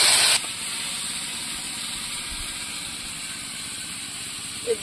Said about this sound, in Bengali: এবার এই তেঁতুলের জল দিয়ে দেবো